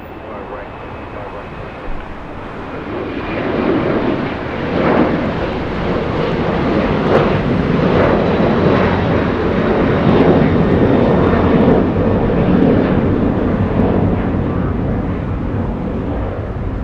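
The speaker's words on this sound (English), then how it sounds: "Today, the 777-200 from Paris." An Air France Boeing 777-200 arriving from Paris at Los Angeles International Airport makes a loud, sustained jet roar that builds after a few seconds and holds steady to the end.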